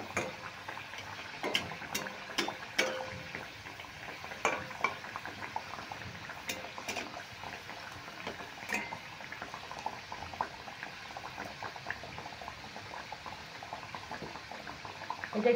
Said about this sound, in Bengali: এটা একটু মিডিয়াম আঁচে ভাজতে হবে